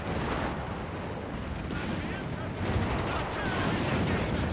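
Tank and infantry battle in Company of Heroes 3, a dense wash of rifle and cannon fire with booming artillery-like hits under a caster's running commentary.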